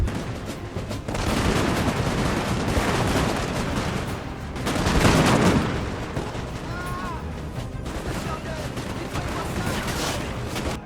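Musket volleys and cannon fire rumble through a Napoleon: Total War battle, sustained dense gunfire with a louder booming burst midway, all fairly distant and continuous.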